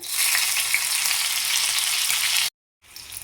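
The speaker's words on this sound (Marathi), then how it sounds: "आता आपण त्याच्यामध्ये तेलामध्ये मिरच्या घालूया" Loud, steady sizzling of green chillies frying in a little hot oil in a pan, cutting out abruptly for a moment before resuming.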